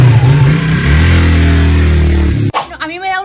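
A motorcycle engine revs loudly and steadily for about two and a half seconds, then cuts off abruptly as voices talk afterward.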